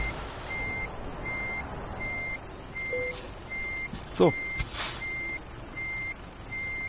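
Steady electronic reversing beeps from a truck backing up to couple a trailer in Euro Truck Simulator 2, repeating at an even rhythm with a brief air-brake hiss and a short spoken word partway through.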